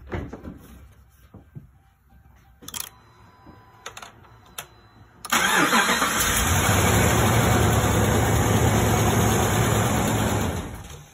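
A 5.7-litre Ram truck engine, with its fuel pump relay bypassed, cranks and catches after a few clicks and taps. It settles into a loud, steady running roar that holds for several seconds.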